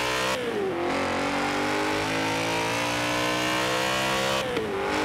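Car engine in the racing game Forza Horizon 4, loud sustained revving with rising pitch sweeps at the start and again near the end, a dense harmonic drone throughout.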